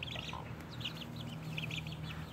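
Hens of giro and ceniza coloring with a reddish young rooster and chicks, clucking and chirping in steady short bursts against a low constant hum.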